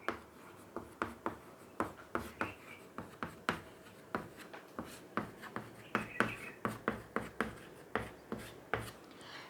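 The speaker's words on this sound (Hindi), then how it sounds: "मैं एक वाक्य लिख रही हूं यहां पर" Close, distinct strokes of writing a sentence on a surface, a brisk series of short scratchy taps and rubs coming in irregular bursts with nothing else heard.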